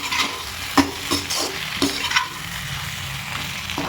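Fried chicken pakoras stirred together in a pan for dry chilli chicken, a spoon scraping and clacking against the metal a few times over a soft continuous sizzle, close, no talking.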